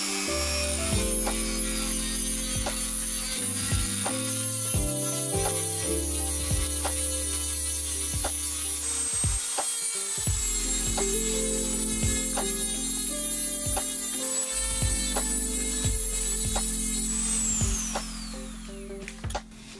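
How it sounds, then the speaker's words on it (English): A cutting machine cuts off the connector of an Apple anti-theft USB-C cable with a steady, loud motor hum under sharp grinding and clicking, ending in a rising whine as it winds down. "let's use the cutting machine to cut off the USB-C connector"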